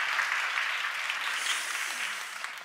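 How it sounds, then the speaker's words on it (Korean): A church congregation applauds to welcome a pastor to the front, a fairly soft but steady patter of many hands clapping together, tapering slightly at the very end. "박수로 한번"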